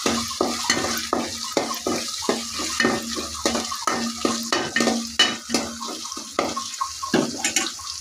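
Black pepper and garam masala stirred and fried in a cooking pan for a potato and cauliflower curry: a close, steady rhythm of spoon scrapes about twice a second over a light sizzle, with no voices.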